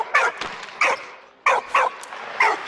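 Walt, a dog in the video game Valiant Hearts, gives five short separate yips or barks at a steady rhythm, loud and close over a soft steady game background.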